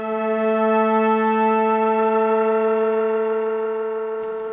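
A sustained Korg Minilogue synthesizer pad holds one steady, rich harmonic tone for about four seconds, loud and alone, fading slightly at the end.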